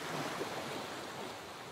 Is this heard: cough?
no